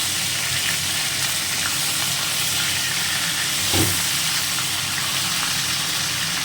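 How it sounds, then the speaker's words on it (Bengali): Bhola fish pieces fry in hot oil until reddened and crisp, a loud, continuous close-up sizzle and hiss with a small bubbling burst partway through. "মাছটা একটা সাইড হয়েছে একটা সাইজ ভেজে নিচ্ছি লাল করে ভেজে নিতে হবে"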